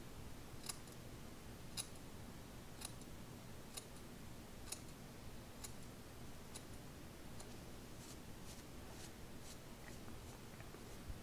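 Scissors snip beard hair during a trim, giving a steady series of crisp, faint close-up clicks about once per second over quiet room noise.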